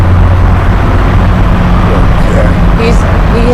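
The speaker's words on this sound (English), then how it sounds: "Of the interstate, the noise of the trucks." Loud, constant roar of heavy trucks and traffic on a busy interstate about a hundred yards away, a dense broadband wash with a faint higher whine near the end.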